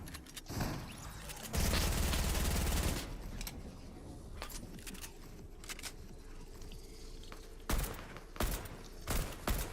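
Rapid AK rifle gunfire in a Fortnite match comes in several bursts, including one long sustained volley, with scattered sharp single shots and other battle noise, moderately loud throughout.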